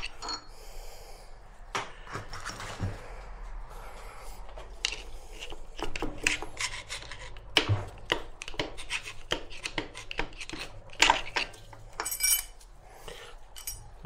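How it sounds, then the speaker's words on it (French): Metallic clinks, scrapes and knocks come from a central main bearing cap being pulled off a DW10 2.0 HDi engine block, scattered sharp taps with soft rubbing between them, close and fairly quiet. "Il suffit juste de retirer le palier"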